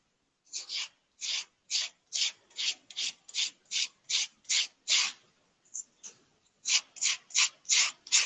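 Rhythmic scraping strokes of worn sandpaper rubbing against a leather edge, quick back-and-forth passes repeating evenly, with a short pause midway, close and fairly quiet.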